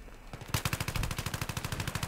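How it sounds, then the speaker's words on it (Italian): Rapid automatic gunfire in the video game Battlefield 3, a loud, close, steady burst of evenly spaced shots starting abruptly after a brief lull and continuing without pause. "Ah, stanno sparando, mi stanno sparando"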